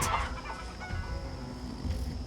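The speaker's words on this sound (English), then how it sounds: "Bird's voice." A clucking bird call in the stealth video game Hida Mission, a few short fowl-like clucks over a steady hissy background ambience, moderately loud with no speech.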